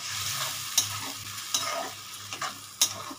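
Spice masala with water sautés in a pan for ghugni, a bubbling sizzle punctuated by four quick, crisp spatula knocks against the pan, with no voices.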